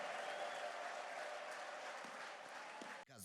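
A church congregation claps steadily in a dense, sustained wave of applause that fills the room at moderate distance, tapering slightly before a sudden cut near the end.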